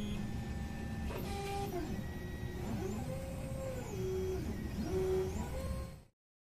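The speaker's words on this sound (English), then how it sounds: "Now the cleaning process is finished and the print will start." An AIO Zeus 3D printer starts a print job after its cleaning cycle, giving a steady mechanical hum with shifting motor whines and tones that rise and fall, heard close and alone, then cutting off abruptly.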